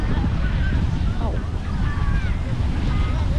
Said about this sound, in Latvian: tā kā šodien ir diezgan liels vējš, tad arī viļņi ir ļoti spēcīgi